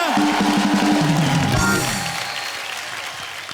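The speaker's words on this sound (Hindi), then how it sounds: "जोरदार तालियां।" A studio audience at a TV comedy show breaks into applause as a music sting plays, the clapping washing in and then gradually fading away.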